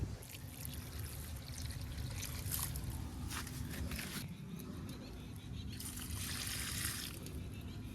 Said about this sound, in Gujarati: આપણે પીવડાવતા હતા પાણી ભાઈ, પાછું પીવડાવવાનું કન્ટિન્યુ ચાલુ કરી દઈએ.